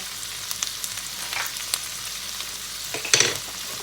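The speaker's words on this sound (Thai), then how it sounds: "พอเนยละลายนะคะ เราก็จะใส่สปาเกตตี้ลงไปเลยนะคะ" Spaghetti tossed in melted butter with shrimp and chicken in a pan, a steady moderate sizzle with occasional scraping stirs, louder toward the end, with no speech.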